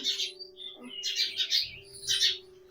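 A sparrow chick chirps in quick, thin bursts, several calls in a row that come and go, fairly faint with a low background hum and no talk.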